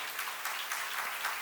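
A church seminar congregation clapping together in unison, a steady wash of applause that swells in a few faint rhythmic pulses, heard from a distance with no voices over it.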